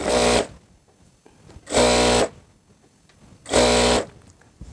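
Three short bursts of a sewing machine stitching a bartack at the leg hem of a plazzo, each lasting about half a second, loud and close, with brief quiet gaps between them.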